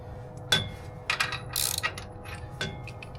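A ratchet tightens a bolt on an e-bike rack, giving a few short, close metallic clicks and ratcheting bursts separated by brief pauses.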